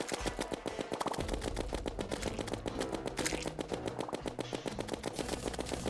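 Rapid, rhythmic gunfire from a weapon in the video game Terraria, a fast repeating stream of sharp shots that continues steadily, with no talk.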